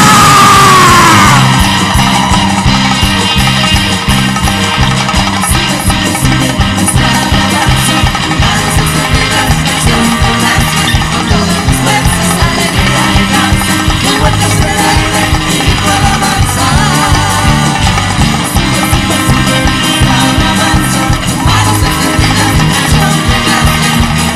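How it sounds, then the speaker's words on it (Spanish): A church congregation at a prophetic celebration of the Ark of the Covenant raises a loud, sustained joyful war cry, with yelling and whooping crowd voices over steady, pulsing music that runs through the whole passage. "¡Grito de júbilo!"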